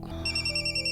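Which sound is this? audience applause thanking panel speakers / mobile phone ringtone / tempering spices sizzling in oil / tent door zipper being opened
mobile phone ringtone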